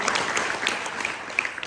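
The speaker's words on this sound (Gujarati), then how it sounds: "ચાલો જોરદાર તાળી પાડી દો." Students and audience at a school quiz competition clap together in a brief, dense burst of applause that holds steady and then thins out.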